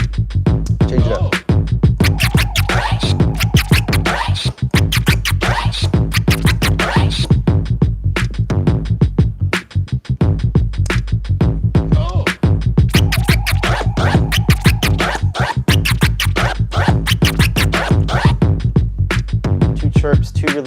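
A DJ turntable chirp scratch repeats over a steady backing beat, each pattern ending in two releases, giving a continuous run of short, bright, rhythmic strokes that stays loud and close.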